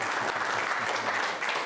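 Live audience at a talkSPORT broadcast giving brisk, dense applause, a close, continuous crowd clapping sound lasting only a moment.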